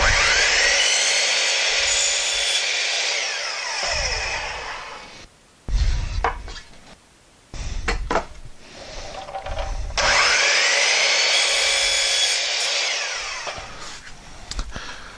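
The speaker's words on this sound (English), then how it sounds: "now we're going to cut some corners, and I've set my stop block over here just so that I could make all the cuts repeated" A power saw cuts wood pieces set against a stop block for a custom pegboard wrench organizer, two long loud bursts of whining cut separated by a quieter stretch of handling knocks and clatter, no talk.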